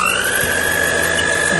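An electric mixer whisks egg whites with cream of tartar for a meringue, a loud, steady motor whine with a slight shift in pitch partway through, heard close up and without talking.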